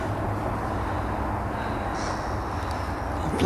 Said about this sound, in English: A few black-headed gulls.